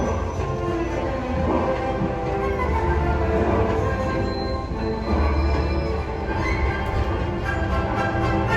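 Steady rumbling of a train rolling along the rails, a continuous low drone with faint rhythmic clatter and no talking.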